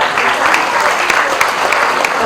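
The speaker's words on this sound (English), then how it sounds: "A round of applause for Pillai sir, please." Dense applause from an audience at a university felicitation event in Mumbai, continuous clapping from many people that stays loud and even across the short stretch, with some voices underneath.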